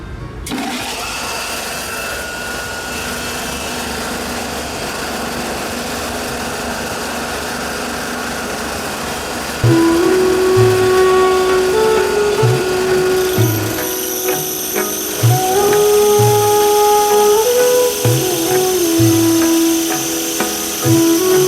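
A multipurpose grinding machine mills turmeric into powder, starting as a steady mechanical drone that grows louder and busier partway through with whining tones and rhythmic knocks, running continuously without talk.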